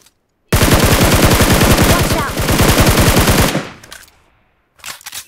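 Sustained rapid machine-gun fire in a battle royale shooter, a loud close burst lasting about three seconds, then fading into a short echo before a second brief burst.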